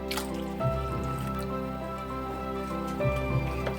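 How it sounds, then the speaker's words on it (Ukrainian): Warm milk is poured into a bowl while making a quick pizza pie dough, with small, close dripping splashes over a steady background hum and no speech. "даємо тепленьке молочко"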